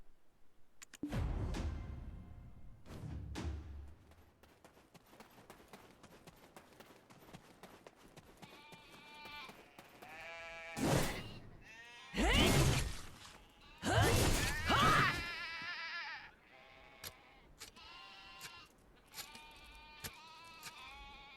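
Sheep bleat in Black Desert Online at a snowy mountain totem, a few distinct bleats rising over soft hoof clip-clops and game sounds.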